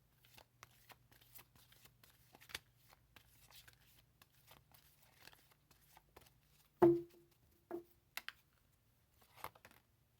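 Playing cards are shuffled and riffled with a run of soft clicks, then a few louder snaps and flicks as the deck is handled, close up.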